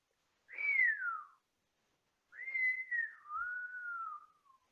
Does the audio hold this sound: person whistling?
yes